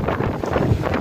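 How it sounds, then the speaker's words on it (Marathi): Strong, gusty pre-monsoon wind blows in the early afternoon as a loud, continuous rushing roar buffeting close against the microphone, with no talking. "दुपारचा 1:30 वाजता एवढा सोसाट्याचा वारा सुटला आहे"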